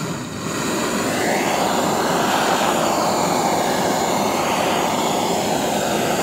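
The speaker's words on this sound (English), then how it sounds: "I can get a bit of heat into this crankcase, but not enough, I don't think, with that blowtorch" A blowtorch roars steadily and loudly while heating a BSA A70L Lightning motorcycle crankcase, a dense continuous hiss of flame throughout with no talking.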